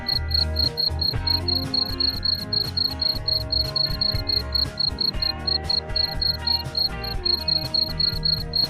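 Crickets on a cricket farm chirp in a loud, steady, rapid pulsing chorus that runs without a break, close by and alone, over a low rumbling background.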